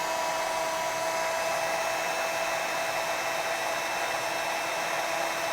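A heat tool blows onto layered fabric from the back while a journal cover is being made. It gives a steady, airy whir with a thin whine, constant and fairly quiet, with no talking.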